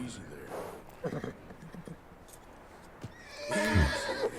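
Horse in the Red Dead Redemption 2 video game gives a loud, close whinny near the end, after scattered soft hoof clops and game noises.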